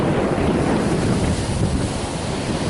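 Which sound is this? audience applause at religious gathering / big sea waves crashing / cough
big sea waves crashing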